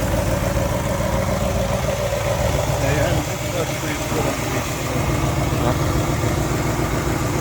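A 1966 Pontiac GTO engine idles loudly and steadily nearby with a rough, ticking exhaust note from an exhaust manifold leak, running continuously without revving.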